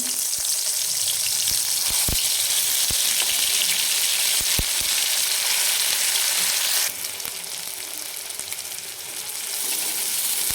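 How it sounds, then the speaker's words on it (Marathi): Onion, coconut and masala paste frying in oil in an iron wok, a loud steady sizzle with scattered stirring clicks that drops briefly quieter partway through before resuming. "याच्यामध्येच आपण दोन चमचे तेल टाकले आणि आता याच्यामध्ये जे आपण वाटण करून घेतलं होतं कांदा खोबरा आणि थोडासा मसाला तो टाकून घेऊ आपण"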